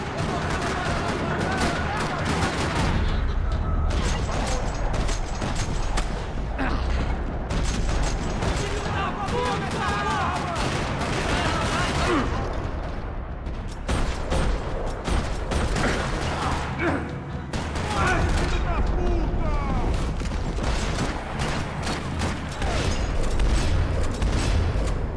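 Gunfire in the video game Max Payne 3: repeated, rattling bursts of shots and booming impacts throughout, dense and loud, with a voice talking over the action at times.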